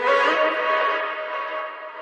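Mellow pop vocal doubled at the normal octave with no formant shift, heard as a sustained, smeared and reverberant vocal tone that slowly fades over about two seconds, with no speech.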